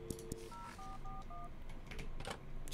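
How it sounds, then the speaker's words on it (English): Touch-tone dial beeps from a phone call to builders in a video game: a few short tones, then a quick run of evenly spaced beeps, all close and clear over a low background hum. "let's make a phone call to the building dudes and see if we can't buy stuff from them"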